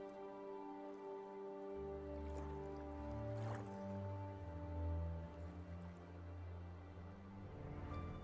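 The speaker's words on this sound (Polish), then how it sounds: "Plusk, plusk, płyniemy." Water lapping and splashing as a boat sails across a lake in The Witcher video game, soft wet drips and squishes over a steady low tonal hum of background music, fairly quiet.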